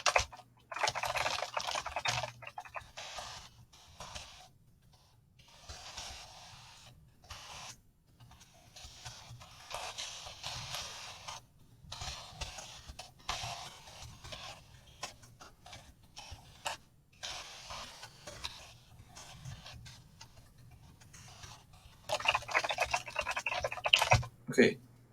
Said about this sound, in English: that was a pretty good sounding keyboard in terms of membrane keyboards